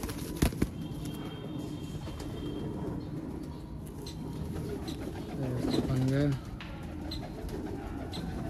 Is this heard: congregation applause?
no